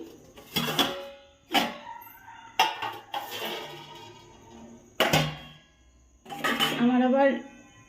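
A metal dinner plate is handled for serving rice, giving a few sharp clinks and clatters spaced across the moment, close by, with a voice speaking briefly near the end.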